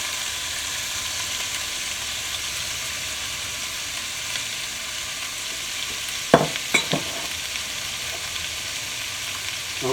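Pork and onions sizzle steadily in a cast iron pot for pozole, a constant broad frying hiss with a few sharp utensil scrapes and clinks in the middle.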